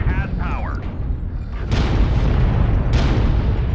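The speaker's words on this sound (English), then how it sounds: "That Supernova is getting absolutely pummeled by my cannons." Heavy cannon fire from a mech in MechWarrior Online, two loud booming blasts near 1.7 and 2.9 seconds over dense battle rumble, with a brief voice-like tone at the start.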